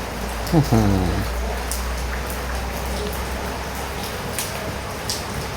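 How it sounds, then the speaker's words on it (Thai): Steady rain falls outdoors in a garden cooking setting, an even wash of patter throughout, with a brief voice cutting in near the start. "ฝนก็ตกไม่หยุดนะวันนี้"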